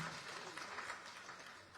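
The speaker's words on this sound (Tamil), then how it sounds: "கைத்தட்டலாம்." Faint, steady applause from the audience at the audio launch of the Tamil film Myyal, a soft wash of clapping that holds at a constant level throughout.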